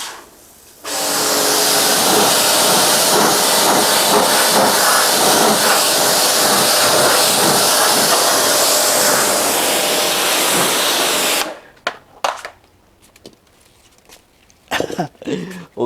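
A car wash water pump runs and sprays steadily, a loud, continuous hissing rush lasting about ten seconds, then cuts off, followed by a few scattered knocks and handling sounds.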